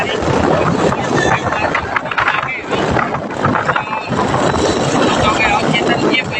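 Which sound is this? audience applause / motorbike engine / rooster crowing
motorbike engine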